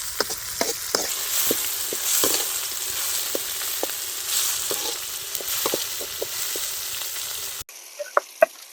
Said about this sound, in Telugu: ఇది బాగా ఫ్రై అయినాయి కదా.